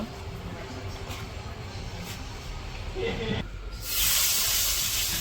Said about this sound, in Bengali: কড়াইয়ে তেল দিয়ে দিল